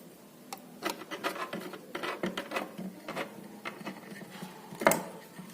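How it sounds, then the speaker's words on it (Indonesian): A bolt is tightened on a backlight tester for LED TV servicing, heard as close, small metallic scraping and clicking bursts with a sharp click near the end. "kita kencangkan bautnya."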